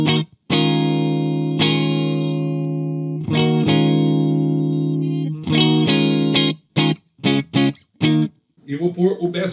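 A Randall RG3003 guitar amplifier plays a clean tone with the bright switch engaged: sustained ringing chords with rich overtones, then a series of short, choppy strummed stabs, loud and close, with no speech over them.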